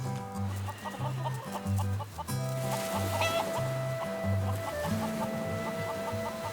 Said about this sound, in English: infestation of chickens